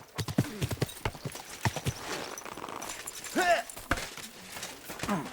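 Horse hooves clip-clop in a quick, uneven rhythm in the video game Kingdom Come: Deliverance II, with a short whinny partway through.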